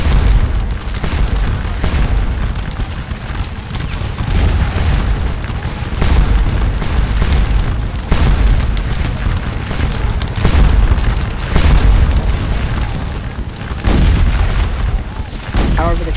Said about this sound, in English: the canister fire has done its work